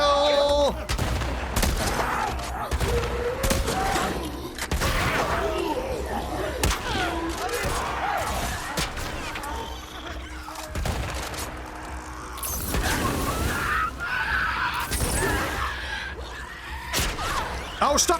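Dense video game gunfire and explosions from The Last of Us Part II, with rapid shots, thuds and crashes continuing throughout over a constant game soundscape, while a voice speaks now and then.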